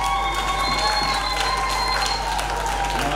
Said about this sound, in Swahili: Makofi mengi kwao